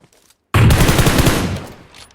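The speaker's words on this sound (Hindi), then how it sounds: "वो मेरे को शूट करता है" Automatic gunfire from a shooter video game erupts suddenly after a near-silent moment, a loud, dense burst of rapid shots that fades gradually over about a second and a half.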